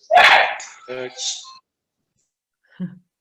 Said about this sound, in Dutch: Komt even een hond tussendoor